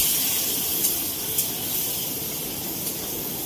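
Water hits a hot pan of ginger, cumin powder, coriander powder, turmeric and green chilli, giving a loud, even steam hiss that holds throughout, with a few faint crackles on top.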